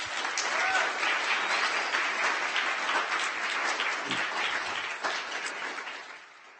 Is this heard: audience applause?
yes